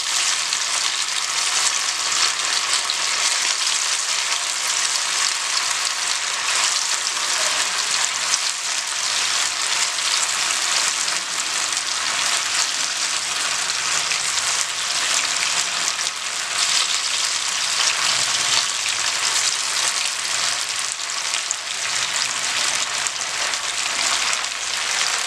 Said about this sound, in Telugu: మిగిలిన పీసెస్ కూడా మనం ఫ్రై చేసుకుందాం.